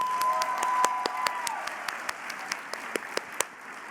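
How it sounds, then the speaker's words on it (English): A room full of people at an awards luncheon applauds steadily, with sharp individual claps standing out as the clapping thins and tapers off toward the end. "Let's give Josh one more round of applause"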